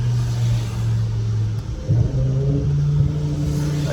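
A BMW E60 M5 V10 with a lightweight flywheel idles with a steady low hum, then a quick throttle blip lifts it briefly. It is heard up close and steadily, with a faint background hiss and no talking.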